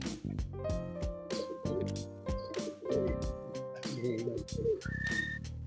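Pigeons at a West Bengal pigeon keeper's loft give a few soft, low coos among other bird calls and whistles. The sounds are close and fairly steady, with no talk.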